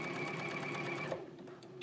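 A domestic sewing machine stitching two back pieces of a garment together gives a fast, even mechanical whirr at close range, then stops partway through, leaving a few faint clicks and handling sounds.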